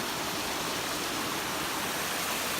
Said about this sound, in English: Lovely waterfalls all along the way.